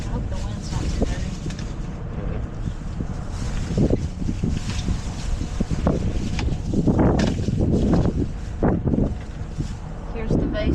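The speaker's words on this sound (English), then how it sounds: "I hope the wind's not too heavy." Wind gusts outdoors at a boat show, a steady rumbling buffet across the microphone, with a voice speaking over it.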